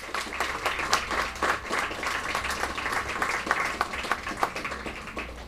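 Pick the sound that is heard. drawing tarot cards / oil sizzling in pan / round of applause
round of applause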